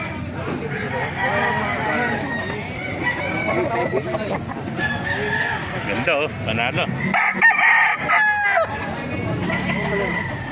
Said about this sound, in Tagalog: Napakagandang manok nito.